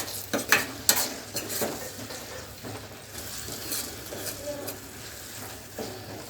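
Gongura pickle frying in oil in a pan is stirred with a utensil, giving a soft continuous sizzle broken by scraping strokes and a few sharp clinks against the pan.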